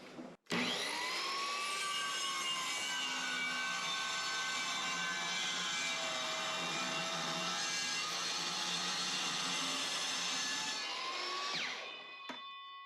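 A power saw cuts through a game-used wooden baseball bat, its steady high whine running loud and unbroken for about twelve seconds before spinning down at the end.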